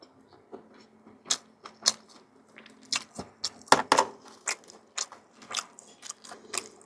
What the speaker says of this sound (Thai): ไข่ดาวทอดกรอบกินกับน้ำพริก